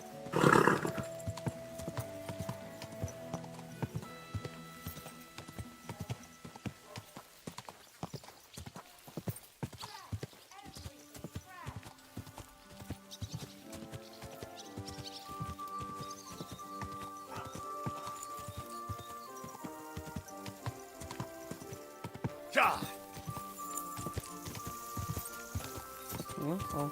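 Rhythmic hoofbeats clip-clop steadily under the Kingdom Come: Deliverance II game music score, with a horse's whinny near the start and another later, while a voice speaks occasionally.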